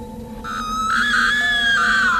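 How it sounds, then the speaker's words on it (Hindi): A woman's terrified scream in a horror story, sustained and loud, rising and wavering in pitch without any speech around it. "प्रिया के मुंह से चीख निकल जाती है"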